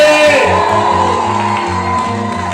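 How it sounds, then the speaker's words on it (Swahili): A church congregation cheers, shouts and ululates loudly over steady rhythmic music with deep bass, with many voices mixed together throughout. "Shangwe na vigelegele."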